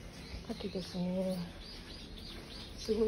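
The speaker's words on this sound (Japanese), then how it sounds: "すごい鳥の声。" Birds chirp and call outdoors in Tokyo, with a few short, faint tweets scattered through a steady background hiss, and a person speaks over the middle.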